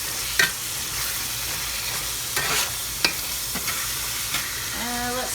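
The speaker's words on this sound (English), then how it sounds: "we just give this a stir, and I turn the heat down to low" Ground beef stirred in a hot pan over a steady soft sizzle, with a few sharp scraping clicks of the utensil and a brief clatter near the end.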